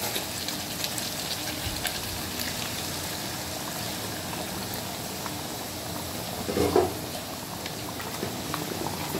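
Bengali-style chicken curry simmering after water is added: a quiet, steady bubbling hiss with one brief clunk partway through, no voices.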